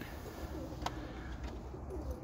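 Soft cooing from young roller pigeon cocks, a few low murmuring coos from nearby birds over a faint hiss of background noise.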